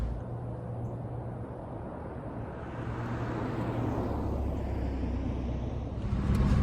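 A 1994–1998 Saab 900 with a freshly serviced transmission driving along, its steady engine and road rumble holding level and close, with wind noise building slightly toward the end and no talking.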